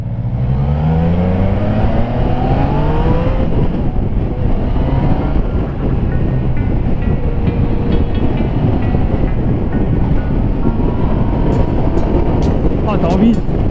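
A Yamaha Niken three-wheeled motorcycle with two front wheels, ridden through a curve: a loud, continuous engine note that rises and falls over heavy wind rush close to the rider.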